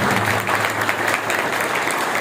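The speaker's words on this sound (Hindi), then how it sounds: "इनके लिए तो जोरदार ताली बनती है।" An audience at a birthday celebration breaks into loud, sustained clapping that fills the whole stretch without pause.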